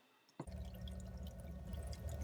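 Water gushes steadily from the open drain plug of an engine with water in its oil, a continuous close pour and splash that starts abruptly after a quiet moment and keeps running.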